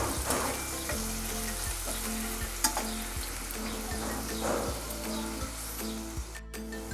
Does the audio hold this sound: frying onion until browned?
yes